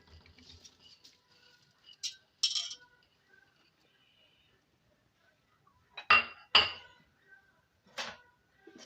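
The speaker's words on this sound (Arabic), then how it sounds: "فاول حاجه غنضيف العدس" Lentils poured into a cooking pot in a quiet kitchen, heard as brief bursts of dry rattling patter with near silence between them.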